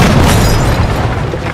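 A loud explosion from explosives in the tactical video game Jagged Alliance 3, a single deep booming blast with a rumbling decay over a second and a half.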